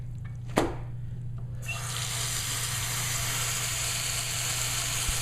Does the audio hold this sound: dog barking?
no